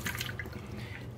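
Water poured from a Samsung water filter pitcher, a short close trickling and splashing stream with small dripping detail, alone and steady.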